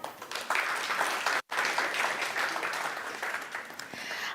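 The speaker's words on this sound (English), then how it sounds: "Please give a round of applause" Sustained applause from a conference audience at a travel summit awards event, a dense, even wash of many hands clapping, broken by one brief silent gap before it resumes and carries on steadily.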